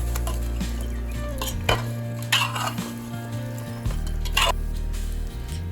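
A spoon stirs thick curd into a sizzling butter chicken mixture in a pan, with scraping metal clinks at a few points over a steady frying hiss, close and moderately quiet.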